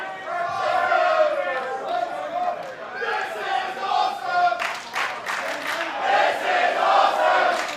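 A Brisbane arena crowd at a professional wrestling match roars and cheers loudly, with raised shouts and a rising burst of noise partway through, while commentators talk over the din.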